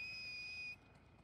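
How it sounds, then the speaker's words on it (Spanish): A sharp, steady two-tone whistle from people in the video game The Last of Us Part II holds for under a second, then cuts off, leaving a quiet ambient background. "Le gusta a esta gente silbar, compadre."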